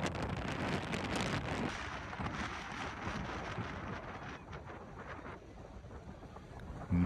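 Strong wind gusts and rough waves at a beach on a stormy day roar as a loud broadband wash, buffeting the microphone and fading slightly toward the end, with no voices heard.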